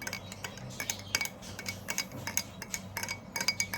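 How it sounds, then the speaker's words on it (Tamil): A spoon stirs black coffee sweetened with country sugar (jaggery) in a cup, a quick, steady series of light metallic clinks against the sides, close and fairly quiet, with no talking. "அப்புறம் நாட்டு சர்க்கரை தேவையான அளவு போட்டுட்டு இப்படி மிக்ஸ் பண்ணிக்கணும்"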